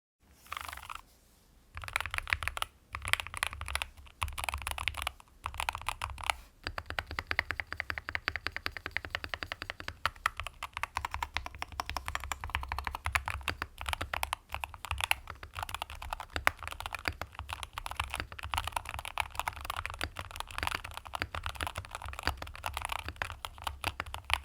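Rapid typing on a Keychron K2 HE mechanical keyboard with wooden accents, a dense close stream of crisp keystrokes after a few opening clacks, with deeper spacebar thocks mixed in.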